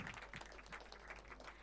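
Audience applause at an International Women's Day celebration as names are read out, a steady dense wash of many hands clapping throughout, fairly distant and even in level.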